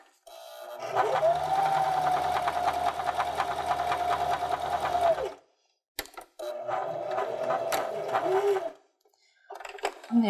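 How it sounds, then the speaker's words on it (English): A sewing machine stitches close to the edge of fabric for a simple sunglasses case, running in a long, steady mechanical burst, pausing briefly with a faint click, then running in a second shorter burst. "So I'll just sew very close to the edge so that it's gets closed up without too much of a seam in there."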